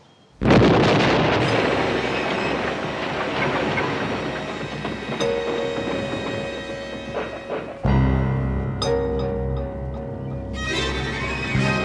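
A loud, sudden blast from an exploding cake in a TV crime movie bursts in and rumbles on with a long, heavy roar, then a second surge of booming noise near the end.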